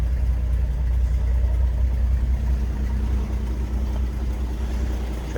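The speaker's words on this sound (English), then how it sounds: "Car idles nicely." A 1950 Chevrolet Styleline Sport Coupe's inline six idles steadily after a cold start, a smooth, even low rumble heard up close with no revving and no talking.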